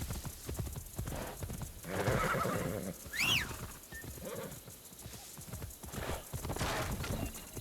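A horse in Assassin's Creed Shadows clops its hooves steadily and gives a short whinny midway, set against outdoor game ambience with birds and rustling foliage.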